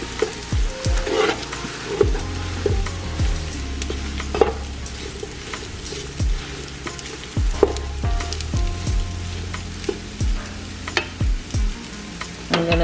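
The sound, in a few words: stirring cream cheese into tuna casserole in pan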